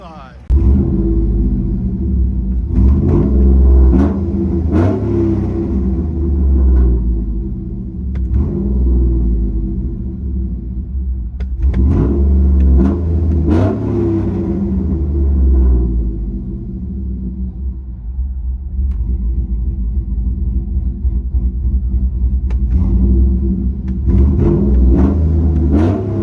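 Inside the cabin of a lifted 2008 Chevy Tahoe with a 5.3L V8, cam, long-tube headers and a Flowmaster Super 10 exhaust, a deep droning rumble swells with several revs, loud and steady throughout.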